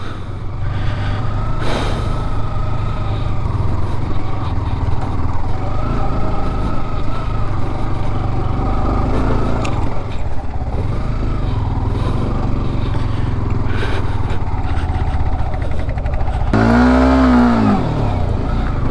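Six motorbikes ride together on a hill route around Tindu, a loud, steady engine drone holding throughout with a wavering horn-like tone near the end.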